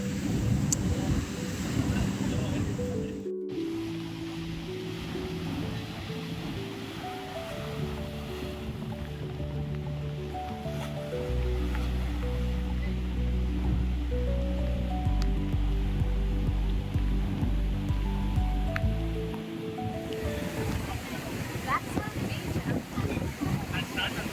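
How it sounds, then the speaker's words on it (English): Surf at Black Sand Beach in Varkala, Kerala, rolls in as a steady, continuous wash under wind noise, with low droning tones running beneath it throughout. "So this is the Black Sand Beach."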